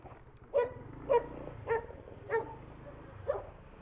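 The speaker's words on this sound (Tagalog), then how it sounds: "Parang kakagatin tayo ng aso ah." A dog barks five times in short, evenly spaced yaps, moderately close, over a low engine idle at a roadside stop with a Honda Click 125i scooter.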